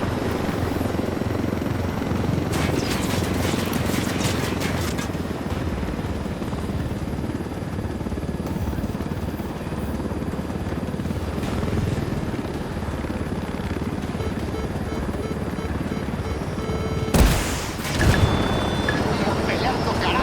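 Helicopter rotor and engine noise from the game Ghost Recon Wildlands, a steady, loud rumbling drone held throughout, with brief bursts of other in-game sounds and voices now and then.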